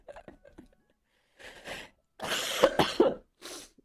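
A person coughs in a few harsh bursts, some closely grouped, with brief quiet gaps and small throaty sounds between them.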